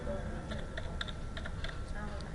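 A computer keyboard clicks as a password is typed, giving a quick, uneven run of soft, light keystrokes over a steady background hum.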